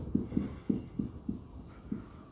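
A teacher writing on a board, about six distinct taps and strokes in an uneven rhythm, close and fairly quiet, with no talking.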